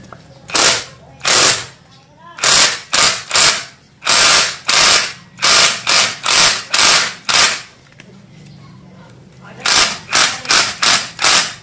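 Vanderbilt impact wrench set to high torque, hammering in loud close bursts of rapid rattling impacts, repeated many times with short gaps, on an NMAX motor scooter.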